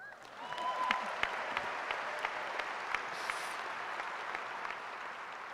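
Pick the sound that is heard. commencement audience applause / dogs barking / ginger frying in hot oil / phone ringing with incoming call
commencement audience applause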